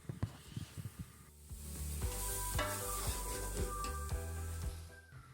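Chopped green onions are stirred into a vegetable chicken pulao in a pot, giving a loud sizzle with repeated scraping spoon strokes, a few sharp knocks early, then a steady hiss.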